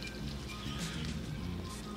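Steady rain falls outside on a wet day, a continuous soft patter and hiss of drops on surfaces that stays even and moderately close for the whole stretch, with no voices.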